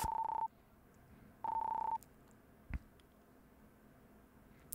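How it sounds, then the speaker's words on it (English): Morse code beeps in the Illusion of Gaia video game: two steady electronic tones of about half a second each, separated by a pause, then a soft click. "I don't know if this is actual Morse code"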